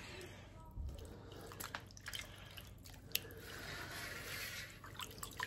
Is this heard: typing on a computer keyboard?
no